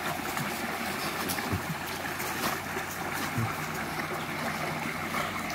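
Water rinses a dog during a bath by a country creek, a continuous close splashing and trickling wash that holds a steady level throughout, with no talk.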